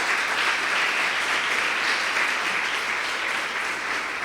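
A church congregation applauds in praise, a dense, steady wash of many hands clapping that holds at an even level throughout, loud and filling the room, with no talk over it.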